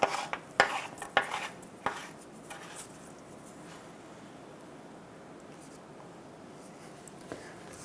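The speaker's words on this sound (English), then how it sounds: "Insert the oil filter cup back into the housing with the new filter and O-ring." Plastic oil filter cup, fitted with a new filter and O-ring, is pushed into its housing on a Toyota Highlander engine, giving a few close clicks and scrapes in the first two seconds followed by quiet.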